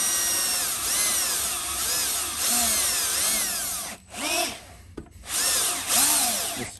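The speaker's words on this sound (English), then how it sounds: "This chuck's getting slippy on this drill." Power drill with a slipping chuck boring into wood during locksmith work on a rim cylinder: loud, close whining bursts that rise and fall in pitch, with two brief pauses and no talk.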